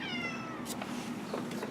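A cat named Bean meows a few times indoors, close but fairly quiet, over a steady low background hum.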